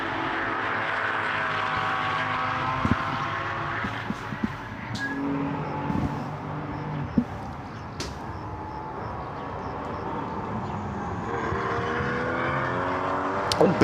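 Porsche Cayman race cars at speed on the Portimão circuit during a GT sprint race, a continuous engine drone with shifting pitch from passing cars, moderately distant, with faint clicks and a rising swell near the end.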